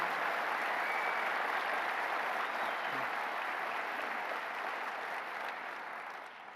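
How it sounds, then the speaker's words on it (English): Applause from an audience at a New York State of the State address in Western New York greets Howard Zemsky. Dense, sustained clapping stays strong, then gradually fades toward the end. "Let's give him a big round of applause."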